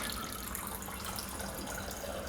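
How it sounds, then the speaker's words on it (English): Filtered water poured into a pan for pot stickers, a steady close splashing and trickling stream that runs unbroken for a couple of seconds with no talking. "I'm just gonna be adding some filtered water"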